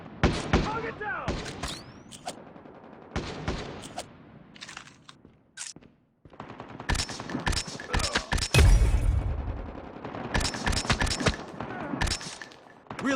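Repeated sniper rifle shots in a video game, sharp loud bursts spread across the clip with short pauses between them, mixed with game voice callouts.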